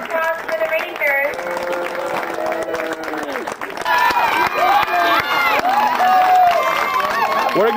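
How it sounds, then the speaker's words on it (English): Crowd applause and cheering for a youth sports team, the Rangers, at a team presentation, with dense clapping building louder toward the end and a voice speaking through the noise. "Let's hear a round of applause for the Rangers."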